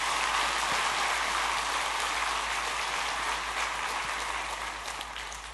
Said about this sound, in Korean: 다시 한번 우리 박수 한번 드리겠습니다.